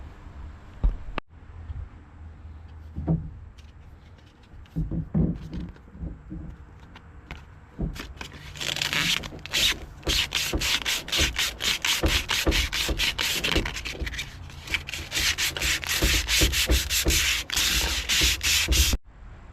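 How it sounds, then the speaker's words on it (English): Coarse 80-grit sandpaper rubs back and forth over wood and epoxy-filled kerf joints on a skiff build, first sparse scratches, then fast, dense, steady strokes close up, with no talking. "I'm going to take some 80 grit sandpaper, sand everywhere that we're going to be running through one of them joists"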